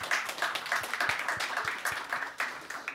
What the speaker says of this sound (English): I may ask for a round of applause for our guest speakers tonight